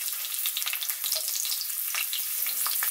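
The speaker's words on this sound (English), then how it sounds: "heat 2 tablespoons of oil in a pan. To this, add 4 to 5 green chillies" Green chillies hit about two tablespoons of hot oil in a pan and set off a loud, dense, crackling sizzle that continues without a pause.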